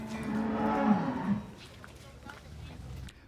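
Cows moo in a long, loud, close bellow that swells and then breaks off, followed by quieter farmyard background with faint distant sounds.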